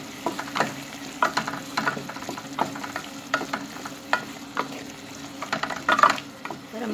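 Tomato paste being stirred in a frying pan, soft scraping strokes of a spoon in a repeating rhythm over a gentle steady sizzle; close, moderately quiet, no talk.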